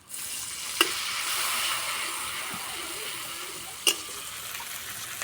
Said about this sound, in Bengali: অল্প একটু জল দিয়ে মশলা ভালো করে কষিয়ে নেবো